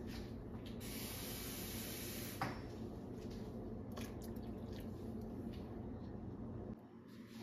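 Cold water is poured onto freshly made chhena for rasgulla, a steady close hiss and splash of water running into the curds that fades near the end, with no talking.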